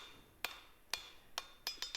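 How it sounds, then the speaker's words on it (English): Blacksmith hammering a hot iron bar at the anvil to draw the metal down, six sharp ringing strikes, the first few evenly spaced and the last three quicker, close and clear without talk. "start hammering down to draw that material down"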